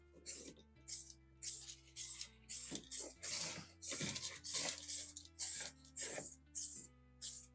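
A series of short, sharp spray bursts, about a dozen in a steady rhythm, squirt liquid onto a Volkswagen Bug part during restoration, each puff hissing up close against a low background hum.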